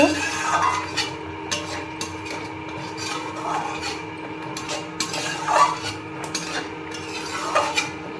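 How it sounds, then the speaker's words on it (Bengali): A spatula scrapes and knocks against a pan while palak paneer with turmeric is stirred restaurant style, in rhythmic strokes about once a second over a low background hum. "হলুদটা দেওয়ার পরও বেশ কিছুক্ষণ নাড়াচাড়া করব"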